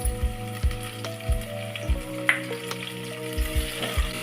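Red chillies frying in oil in a pan, a steady close sizzle running throughout with a few soft scraping stirs, no voices.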